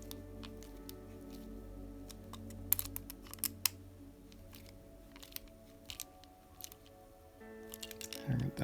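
Small screws being tightened into a hard plastic Tamiya MB-01 model car chassis, faint scattered clicks and creaks of the driver, quiet and close, ending with a louder handling clatter.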